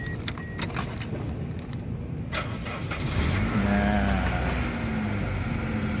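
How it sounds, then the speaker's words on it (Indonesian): A 2003 Suzuki Baleno Next-G 1.5 with manual transmission is started from inside the car. Keys jingle and click first, then the starter cranks and the engine catches into a steady close idle. "Coba kita masuk ke dalam mobil dan coba kita nyalain mobil."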